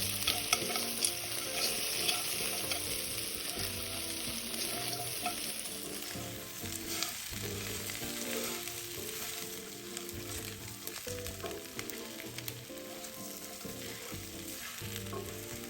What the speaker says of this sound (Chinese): 然后再将预先备好的五花肉加入，冰糖40克，一起拌炒均匀。